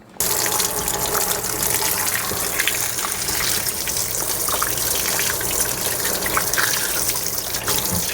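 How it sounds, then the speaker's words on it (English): Cured salmon has its salt and sugar rinsed off under a running kitchen tap, a steady, close, continuous gush of water splashing throughout with no talking. "we've got to wash off all of the salt and the sugar that's on here"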